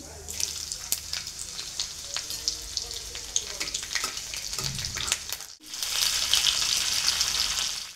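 Curry leaves, peanuts, mustard seeds and garlic sautéing in a hot pan, a steady crackling sizzle with popping spatters and stirring scrapes, which swells into a louder, denser hiss near the end.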